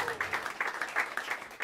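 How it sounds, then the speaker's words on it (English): Audience applause at Smalls Jazz Club, a crowd clapping in a quick uneven rhythm of distinct hand claps, close and moderately loud, with a low murmur underneath. "a big round of applause for the incredible Anthony Pinciotti"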